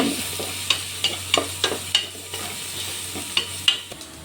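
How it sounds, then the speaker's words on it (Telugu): Pepper and coriander powder sizzle gently in hot oil in a pan for pepper rasam while a spatula stirs, giving sharp scraping clinks at irregular intervals over a soft, continuous frying hiss. "బాగా కలుపుకుంటూ ఫ్రై చేసుకోవాలి, మాడిపోకుండా."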